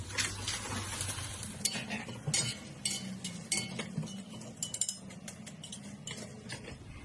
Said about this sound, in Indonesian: Nah ini sekalian saya goreng emping